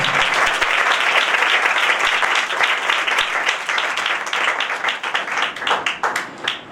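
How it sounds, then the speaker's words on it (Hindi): A congregation claps loudly for Jesus Christ, a dense and vigorous burst of many hands that stays strong, then thins toward the end into more distinct individual claps. "आइए यीशु मसीह के लिए जोरदार तालियां बजा देंगे"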